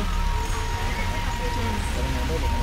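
Heavy rain pours steadily in a dense, even wash of noise with no letup, loud and close, and no one talks over it.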